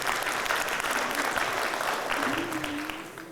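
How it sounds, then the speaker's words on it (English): A conference audience breaks into brief, full applause, a thick patter of clapping that fades toward the end, with a voice briefly sounding beneath it. "let's give Chris and his team a round of applause for the great work they do to organize this conference"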